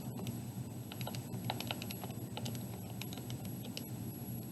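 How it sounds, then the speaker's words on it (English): Numbers are typed on a computer keyboard, a quick run of soft, close key clicks in an irregular rhythm over faint room hum, with no talk. "I will type that in."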